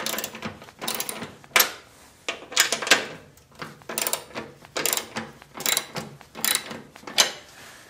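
A 1/2 inch ratcheting wrench clicks in short, uneven bursts as it loosens the skid shoe bolts on the side of a snowblower, close up with no talking.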